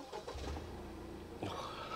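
The three-cylinder engine of a facelifted Toyota GR Yaris cranks and fires, settling into a low, steady rumble close by.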